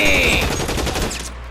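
Rapid automatic gunfire in the video game L.A. Noire, a loud dense burst of shots filling the moment before cutting off abruptly.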